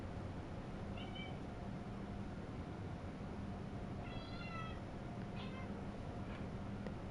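Cats trade several faint meows and yowls, spaced across the stretch, over the constant low droning hum of a Train Sim World 4 train run.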